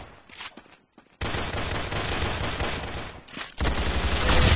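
Sustained automatic gunfire in the video game Arsenal, loud continuous bursts with a brief pause early on before the shooting resumes and keeps going.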